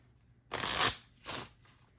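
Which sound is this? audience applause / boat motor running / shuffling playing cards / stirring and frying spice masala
shuffling playing cards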